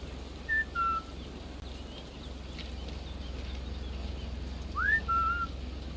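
Faint, sparse whistles in Sniper Elite 5 over a low steady hum: a short two-note whistle early on, then a rising whistle followed by a flat tone a few seconds later.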